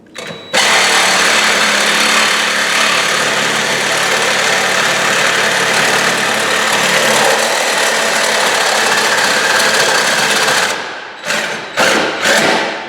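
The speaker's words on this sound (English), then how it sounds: "Simply taking a Sawzall, I'm running into my yellow mark, which is about 3/4 of an inch in." A Sawzall reciprocating saw cuts through a Ford Super Duty steering column, giving a loud, steady, buzzing roar that runs for about ten seconds, then stops and restarts in a few short bursts.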